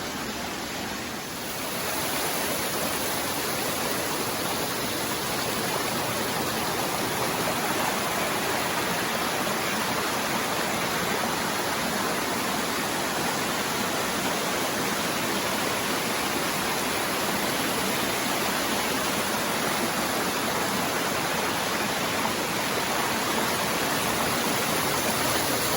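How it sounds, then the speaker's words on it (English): Horton Spring in Arizona's Tonto National Forest pours out of rocks, a steady broadband rush of flowing water, close and continuous with no voices. "there she is, Horton Springs, coming right out of the rocks"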